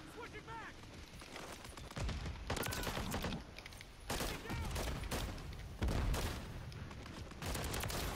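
Dense bursts of gunfire from the Modern Warfare 3 video game crackle in rapid volleys, loud and close, with brief pauses between strings of shots and a voice talking over them.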